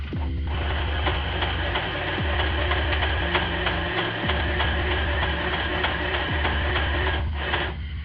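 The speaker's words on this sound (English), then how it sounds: "you're just going to go ahead and stitch the entire line of the booklet" A sewing machine stitches straight down the centre fold of a paper zine booklet, its motor whirring in a steady, close, continuous run, broken by short pauses and shifts in speed.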